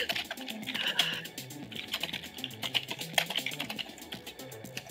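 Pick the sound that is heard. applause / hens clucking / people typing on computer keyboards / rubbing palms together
people typing on computer keyboards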